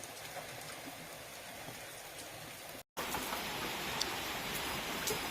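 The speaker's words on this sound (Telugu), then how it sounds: "ఇదిగా ఫ్రెండ్స్ వర్షం అయితే చూడండి ఎలా పడుతుందో" Steady rain falls with a continuous hiss, briefly cutting out, then returning slightly louder with scattered drops nearby.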